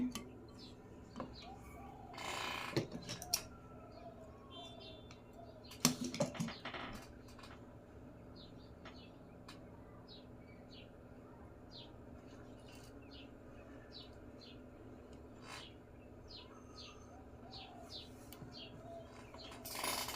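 A sewing machine stitches piping around a frock neckline in two short mechanical bursts early on, then mostly quiet room tone with faint birds chirping outside.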